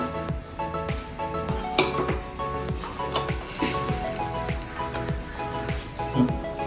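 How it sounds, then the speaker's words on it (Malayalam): A curry base of kudampuli, water and salt bubbles in a pan on the stove, giving a continuous close sizzling boil broken by occasional clicking utensil scrapes. "ഇത് നന്നായി തിളച്ച് വന്നിട്ടുണ്ട്"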